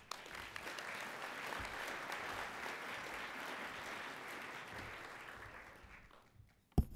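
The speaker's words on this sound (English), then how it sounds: "Let's give Noah and Walter another round of applause" Conference audience of community college trustees applauds speakers at a national legislative summit, steady moderately distant clapping that fades out toward the end.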